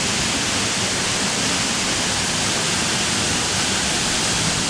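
Loud, steady roar of Henrhyd Falls in South Wales, water crashing down with heavy spray, a dense continuous broadband rush close by with no voices.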